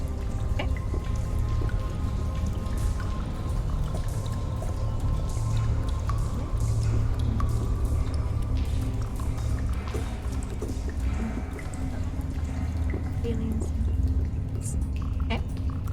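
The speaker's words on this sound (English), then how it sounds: "Do we hear anything besides just the water flowing?" Water flows and drips in a steady, dense wash with scattered close droplet taps, loud and continuous throughout.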